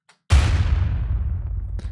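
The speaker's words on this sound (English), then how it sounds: "Usual unaffected explosion." A booming explosion sound effect from a music mix bursts in after a brief silence, with a deep, loud rumble that slowly decays over the next second and a half.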